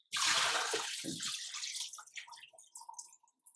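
Rice being washed in a bowl of water for sakinalu, a close splash and swish at the start, then trickling drips and small sloshes fading out.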